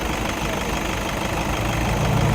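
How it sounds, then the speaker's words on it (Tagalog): A Toyota Innova engine idles steadily while broken down on the NLEX expressway, a loud, continuous rumbling drone with slight knocking texture and no pauses. "para hindi mamamatay yung makina"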